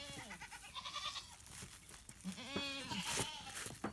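Several goats bleat in a series of wavering calls at moderate distance, outdoors near a spot where dryad's saddle mushrooms grow, with overlapping bleats through the stretch.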